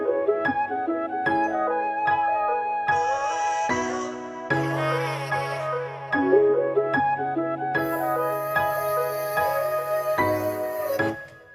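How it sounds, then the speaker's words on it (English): A Falcon software piano plays steady chords beneath a bouncy top-line melody in a hard trap-style loop, joined by a flute with bright accents in the upper layers, loud and continuous with no voices. "So we added this piano from Falcon"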